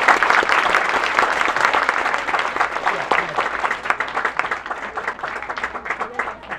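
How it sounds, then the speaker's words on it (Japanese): An audience gives loud, sustained applause after a children's kagura troupe performance at a shrine festival, with dense clapping close by that thins and grows more scattered toward the end. "もう一度大きい拍手をお願いします。"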